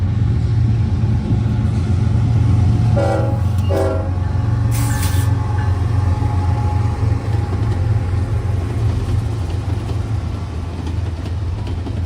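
Norfolk Southern freight NS29A, led by a Conrail locomotive, rumbles past steadily and loudly, with a short burst of horn around the middle.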